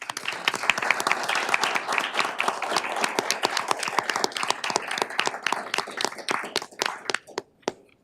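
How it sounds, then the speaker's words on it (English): Audience at a county board of commissioners' regular meeting breaks into sustained applause, dense hand clapping that holds steady for several seconds, then thins to scattered claps and fades out near the end. "I just want to give you guys a round of applause for your great work"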